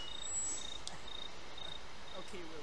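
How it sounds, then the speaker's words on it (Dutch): Crickets chirp in a steady, high, thin pulse that repeats evenly throughout, faint and distant against a quiet background hiss. "Ik hoor dat krekelgeluid zo."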